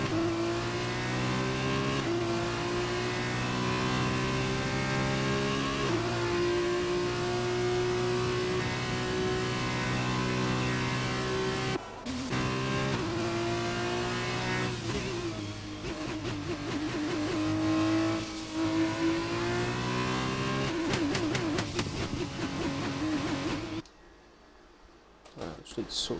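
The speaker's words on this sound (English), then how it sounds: "Who is that coming out the pits?" Formula 2 race car in a racing video game pulls out of the pit lane, its engine droning steadily with harmonic whine through shifts, loud and close, cutting out near the end; talk is faint underneath.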